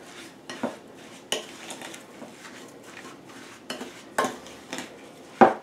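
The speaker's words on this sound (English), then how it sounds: "Going to mix that in as well, get everything incorporated." Gluten-free breadcrumbs being stirred into Christmas pudding batter in a bowl, with a spoon scraping and clinking against the dish in scattered knocks between soft, steady mixing sounds, close by with no talking.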